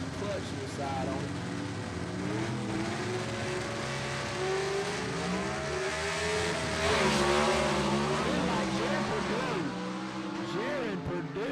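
A gasser drag race car at Gulfport Dragway, Southeast Gassers Association, revs high and drops the clutch to launch down the strip, engine roaring loudly with rising and shifting pitch under an announcer's commentary and crowd noise.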